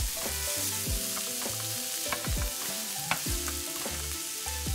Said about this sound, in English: In a pan, put oil, garlic, onion, vegetable of choice, and roast everything together for 2 minutes.